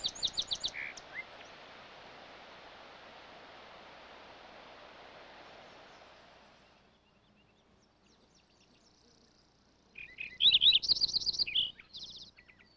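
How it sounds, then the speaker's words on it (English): Sparrow song outdoors: a brief bright burst of high notes at the start, then a steady hiss of background noise and a near-silent stretch, before a louder run of clear whistled notes and trills near the end. "each individual sings several different versions as well, but they usually start with 3 notes and have a trill."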